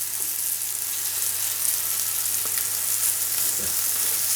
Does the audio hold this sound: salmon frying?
yes